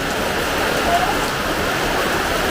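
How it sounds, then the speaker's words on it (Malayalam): Steady, even hiss of rain falling, dense and unbroken throughout. "മഴ എത്ര വേണേലും പെയ്യും"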